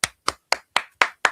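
Six sharp hand claps ring out in an even, steady rhythm, each one crisp and close with a short decay, alone with no voices, given as applause for a donation during a live comics round-table stream.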